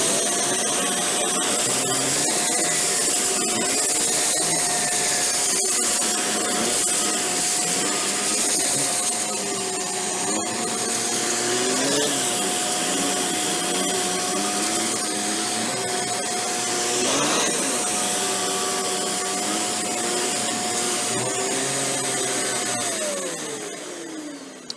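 A Shark Vertex vacuum cleaner fitted with its bladed brush roll runs steadily and loudly for about 25 seconds, holding a constant whine with a little rattle before it winds down at the end.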